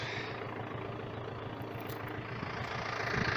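A Yanmar FX 305 tractor engine hums steadily at low volume, even and unbroken, nearby with no talking.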